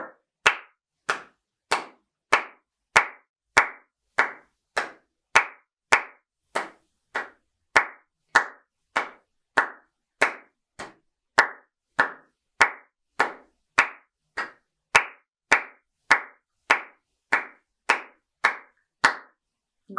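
Steady, evenly spaced hand claps keep a regular beat, loud and close, around thirty in a row with no other sound between them, clapped along to a saxophone practice part.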